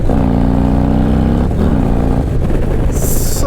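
Harley-Davidson Street Glide ST with a 135ci engine pulls hard under throttle, a loud deep rumble climbing in pitch and then easing off, with one gear change midway and brief wind hiss near the end.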